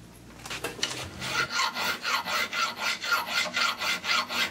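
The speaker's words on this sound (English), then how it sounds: "So first things first, let's get some filing done." Hand file rasping down the metal pins of homemade mini circlip pliers, a steady series of close, even back-and-forth strokes after a brief start, loud and alone.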